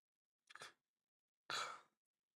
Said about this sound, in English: I don't know why I'm yawning.